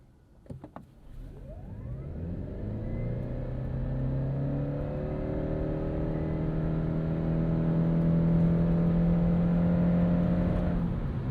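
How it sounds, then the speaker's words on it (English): A 2026 Subaru Crosstrek Hybrid with a CVT accelerates hard in sport drive mode, its powertrain rising into a steady, strengthening whine with layered tonal hum that holds high and climbs slowly, heard from inside the cabin. "we'll just get into the throttle and see what it's got"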